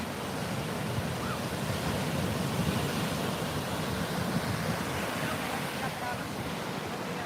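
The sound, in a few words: loud ocean waves crashing on a beach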